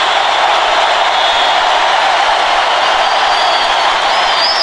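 A football stadium crowd cheers and stays on its feet after a 36-yard field goal in Arkansas vs. Auburn, 2006, a loud, sustained roar with whistles rising near the end.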